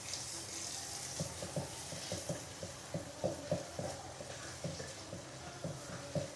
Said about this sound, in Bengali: এখন আমি এটা খুব ভালো করে কষিয়ে নেব মশলাটা